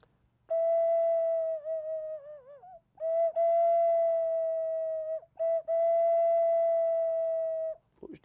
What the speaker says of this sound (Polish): Były też oczywiście później ceramiczne gwizdki, jak na przykład taki tutaj